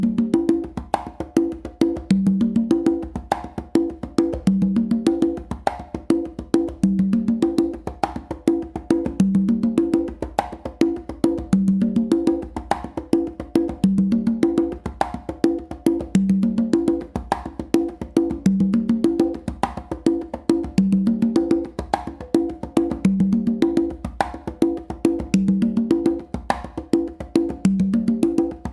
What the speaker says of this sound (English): let me play this pattern up to speed with all the funky grooves and vibes